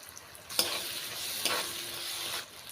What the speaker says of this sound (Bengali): এখন আমরা এটাকে ভালোভাবে নেড়েচেড়ে নেব।